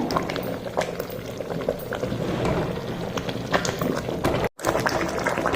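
A thick beetroot malt mixture bubbles and plops continuously in a pan while it is stirred, giving a dense close burbling with small splattering pops throughout.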